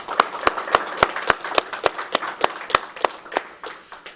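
Clapping at a congressional briefing at the US Capitol, sounding as a few sharp, fairly regular claps standing out over a thin background of scattered applause, with no speech.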